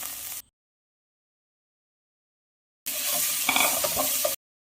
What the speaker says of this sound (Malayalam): ഇനി സവാള ചേർത്തൊന്ന് വഴറ്റിയെടുക്കാം